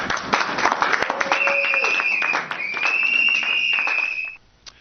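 A crowd applauds in a hall with continuous, fairly loud clapping and a few whistles or cheers riding above it, fading out abruptly near the end.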